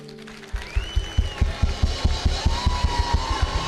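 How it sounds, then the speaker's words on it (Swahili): Rhythmic group clapping for Muthoni Wakirumba at a church gathering, steady beats about four per second, fairly close, with a held musical tone rising over it. "Wapi makofi ya Muthoni Wakirumba? Makofi zaidi."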